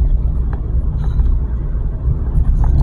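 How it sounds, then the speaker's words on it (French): A school coach bus rolls through town-centre traffic, a steady heavy low rumble of the engine close by that holds level for a few seconds, with faint traffic noise around it. "J'aime pas ces bus là"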